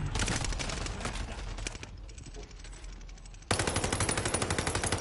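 Sustained automatic weapon fire in the Warzone battle royale game, dense rattling bursts that drop to a muffled lull before a loud close volley resumes.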